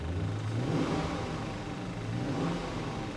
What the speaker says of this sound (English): Let's give her a little rev. She sounds good.